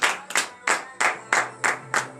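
A church congregation claps during a morning prayer service, giving about seven loud, sharp rhythmic bursts of claps at an even pace, with a low hum underneath.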